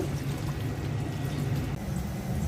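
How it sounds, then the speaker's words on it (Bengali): Water poured into a cooking pan of red spinach leaves for a fish and red spinach curry, a steady close pouring rush that lasts the whole moment. "পানি দিয়ে দিচ্ছি"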